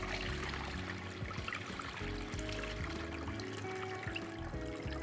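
Starchy rinse water tipped off washed sushi rice in a bowl, a continuous close trickling pour with gurgling splashes over a low hum, steady for several seconds with no talk.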